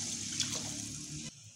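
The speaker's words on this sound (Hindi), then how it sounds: "अब मैं इसके अंदर पानी लगाने लगी हूँ।" Water pours in a steady gushing stream into a cooking pot of browned spiced minced meat (qeema) for pulao, then stops abruptly.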